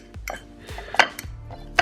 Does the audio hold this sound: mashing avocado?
yes